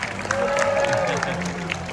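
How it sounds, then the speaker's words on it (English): Crowd at a live children's animal-themed show gives a round of applause, a steady patter of clapping heard beneath a presenter's voice talking over it. "Round of applause to Joanna."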